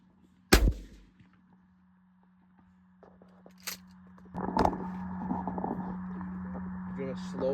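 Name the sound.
gunshot while pigeon hunting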